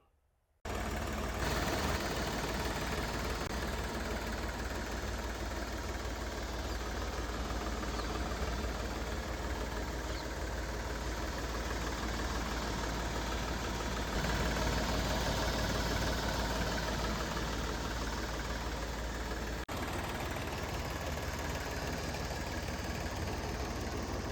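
A 2021 Powertrac Euro 47 Super Max tractor with 880 hours idles steadily nearby, its diesel engine giving a continuous rumbling, knocking drone that holds even for over twenty seconds with no talk.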